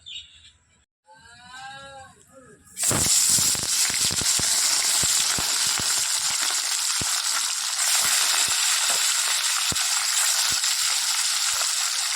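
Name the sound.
bitter gourd and potato frying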